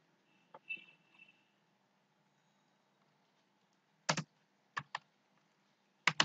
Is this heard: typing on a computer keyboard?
yes